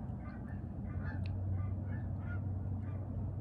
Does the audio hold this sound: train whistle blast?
no